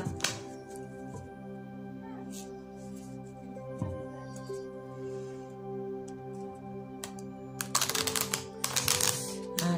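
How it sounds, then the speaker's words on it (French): Small playing cards being shuffled by hand, giving close, crisp bursts of rapid clicking and riffling near the start and again toward the end, over a steady low electrical hum with no talk. "C'est pas facile à mélanger, par contre, ces petites cartes."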